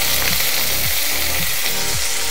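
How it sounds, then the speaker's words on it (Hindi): A bowl of onions frying in hot oil in a kadhai, giving a loud, dense, steady sizzle with a few rhythmic scraping strokes of stirring, close up and with no talk. "तेल हमारा गर्म हो चुका है, अब हम इसमें अपनी एक कटोरी प्याज डाल देंगे।"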